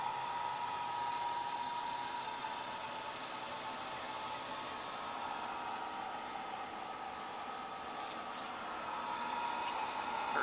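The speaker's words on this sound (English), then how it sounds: "the heat comes out on this side and blows that way across the wheel well" Gas heater of a 1966 VW Beetle blowing hot air across the wheel well, a steady faint whooshing hiss with a constant whirring tone, unchanging throughout.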